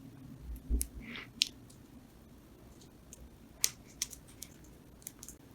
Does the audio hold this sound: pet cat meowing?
no